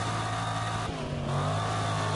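Rally car engine in the Dirt 2 racing game, a steady loud droning roar with little change in pitch, running continuously throughout without talk.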